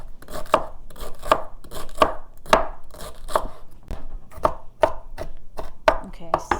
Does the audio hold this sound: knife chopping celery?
yes